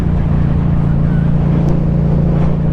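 A 2022 Yamaha MT-07 motorcycle engine drones steadily at a constant pitch while riding, loud and close, with wind rush over it and no talk.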